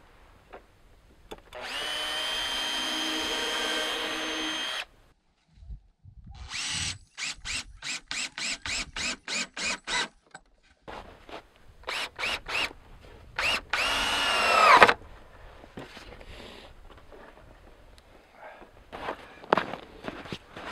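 A power drill whirs for a few seconds, then bursts of drilling and ratcheting as a screw drives into wooden 1x4 cross pieces of a komatik sled, with clunks and footsteps between.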